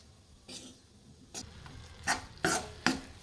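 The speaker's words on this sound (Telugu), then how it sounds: "శనగపిండి అనేది దీంట్లో మొత్తం బాగా ఫ్రై అవ్వాలి." Besan (gram flour) is stirred and fried in a pan, with a few short scraping strokes of a utensil against the pan, growing slightly louder and closer together toward the end over a low background.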